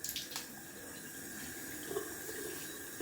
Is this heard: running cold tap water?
yes